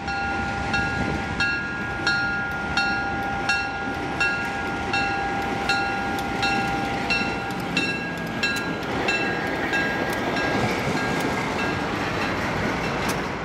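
A train rolls past on the rails beside a trail in Cuyahoga Valley National Park, a steady rumble with repeated clacking and faint metallic squeal, continuous and fairly close throughout.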